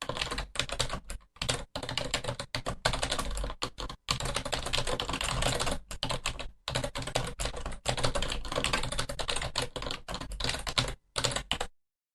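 Fast, steady typing on a computer keyboard while entering an email rule name, close and clear with brief pauses between bursts of key clicks, no talk.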